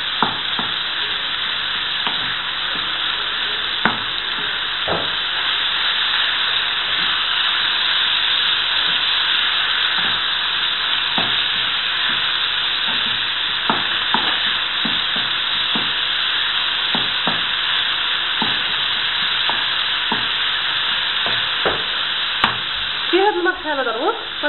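Bourek filling sizzles steadily in a pan over the heat while a utensil repeatedly scrapes and stirs it, the frying hiss constant and close for a long stretch.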